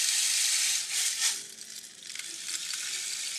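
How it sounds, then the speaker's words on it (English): A rain stick rocked back and forth gives a soft, steady hiss of cascading pellets that swells and eases, close and alone. "So this is my rain stick, and what I do is I start leaning back and forth"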